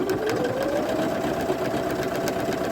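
A Viking Jade 20 sewing machine stitches a buttonhole, its motor running in a steady, continuous whir close by with a faint rising tone, throughout and alone.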